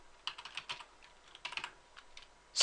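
Someone types a command on a computer keyboard, clustered quick key clicks in two short bursts with pauses, ending in a sharper louder keystroke.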